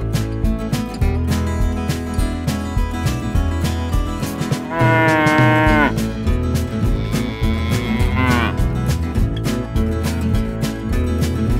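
A Brahman bull lows twice in drawn-out moos, the first around the middle and a second shortly after, both loud over a constant, noisy background.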